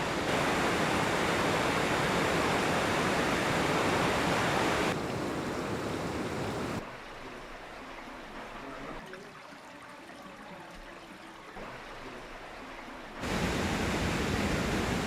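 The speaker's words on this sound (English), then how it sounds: "Lacey's Paradise is an oasis with a waterfall that springs from the canyon wall." A waterfall springing from a canyon wall at an oasis in the Grand Canyon, a steady broadband rush of falling water that drops in level midway, then swells back loud near the end.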